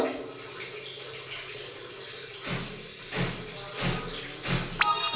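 Onion and coriander leaves washed under running water, with a steady splashing flow and a few louder sloshing bursts, close and moderate in level.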